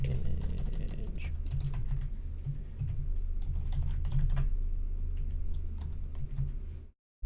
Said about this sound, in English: Someone's typing the HTML.